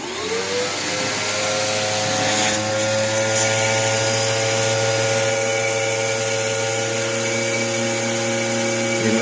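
A vacuum pump runs loud and continuous, drawing a vacuum in a mason jar through a hole in its cap, a steady droning whine with a faint click partway through and no talking.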